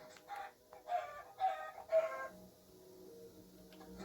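Chickens cluck in a video game chicken farm, three short rising bursts of clucking at a moderate level, followed by a quieter stretch of low, steady hum.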